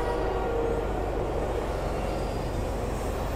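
A train in the video game Chordosis gives a steady, loud rumble with a continuous hum that holds throughout, with no voices over it.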